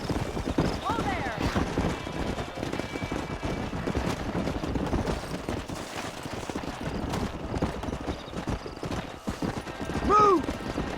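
Rapid clip-clop of horse hooves galloping across open ground in Red Dead Redemption, a busy continuous rhythm with a brief whinny near the end and scattered game noise underneath.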